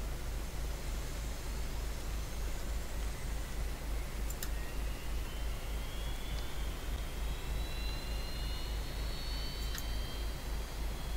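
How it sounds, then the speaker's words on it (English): An Airbus A320neo engine spooling up during start in the X-Plane simulator, a steady broadband roar with a low hum and rising whine, constant and loud throughout, no voices. "Start engine 2. Starting engine number 2."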